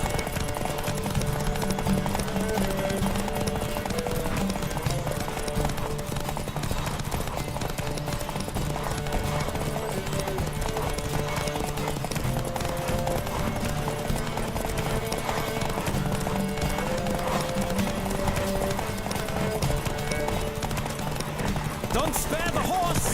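A horse gallops steadily in The Witcher 3: Wild Hunt, its rhythmic hoofbeats running under dense game music and ambience for the whole stretch.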